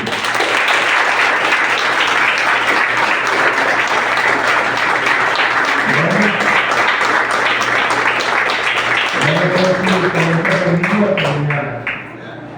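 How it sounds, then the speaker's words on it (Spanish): Church congregation applauding the Lord, steady dense clapping across the whole stretch, with voices singing or calling out beneath it during the second half before it fades at the end. "Denle un aplauso al Señor."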